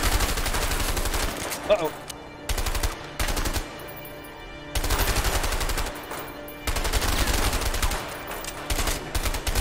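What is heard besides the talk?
gunfire from video game A Way Out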